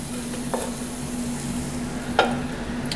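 Onions sauteing in a pan give a steady, quiet sizzle, with a couple of brief scrapes as they are stirred.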